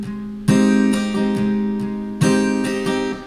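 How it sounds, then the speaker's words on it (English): An acoustic guitar plays a simple down-down-down-down-up strumming pattern for a song, ringing chords struck in a steady rhythm with two accented downstrokes, close and clear with no talking. "So let's just start with the strumming pattern."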